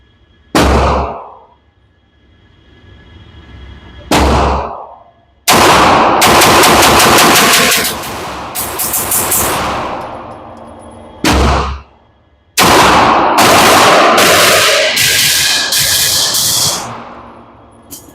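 Rapid bursts of full-auto fire from a KW Vulcan airsoft pistol on a shooting stage: two short single shots, then long rattling strings of shots and another long burst, loud and close.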